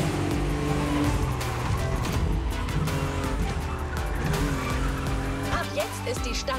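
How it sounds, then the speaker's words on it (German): Porsche sports car on new tyres driving in the racing game The Crew Motorfest, with a loud, continuous engine drone, shifting revs and tyre squeal throughout. "Wir fahren aber wieder hin mit unserem richtig wunderschönen Porsche hier"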